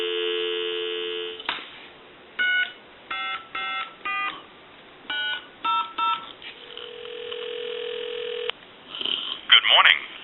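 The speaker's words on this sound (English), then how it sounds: "Give you some dial tone." A Touch Tone Brass Majesty telephone line gives a steady dial tone, followed by a series of short touch-tone dialing beeps in quick groups, then a long ringback-like tone and a brief burst of other line sounds at the end.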